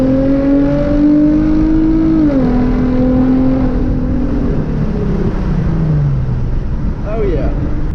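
Hyundai Genesis Coupe with a manifold riser accelerating hard at full throttle from about 50 mph, the engine note steadily climbing and dropping between gear changes, loud and close as from inside the cabin, with no talking.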